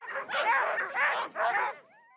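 Sled dogs at an outdoor team sledding event give three close, yelping barks in quick succession, the last trailing into a whine.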